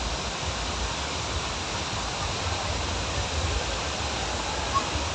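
Tat Lo waterfall in Laos during the Lao New Year festival, heard as a steady, dense rush of falling water, fairly close and unbroken for the whole stretch.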